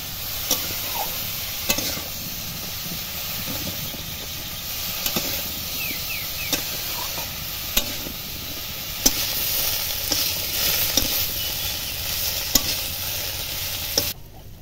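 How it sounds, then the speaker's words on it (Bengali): Papaya pieces seasoned with salt and turmeric stir-frying in a pan, with a loud, steady sizzle throughout and sharp periodic clacks of a spatula against the pan. "পেঁপেগুলো ভালোভাবে ভেজে নিয়েছি,"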